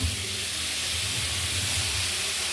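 Onions with salt sautéing in a pan give a steady, close hiss of sizzling that runs unbroken throughout, with no voices.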